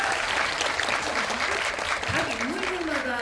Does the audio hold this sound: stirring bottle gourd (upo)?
no